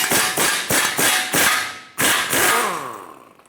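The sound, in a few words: hammer tapping steering knuckle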